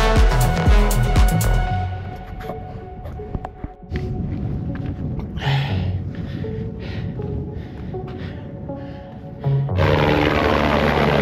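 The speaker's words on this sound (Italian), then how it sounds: "E qui l'elicottero non era per me, comunque ha fatto una manovra, scende da pazzi" A helicopter manoeuvres and descends among the Dolomite peaks, a broad rumbling rotor roar with wind noise swelling and fading at moderate distance.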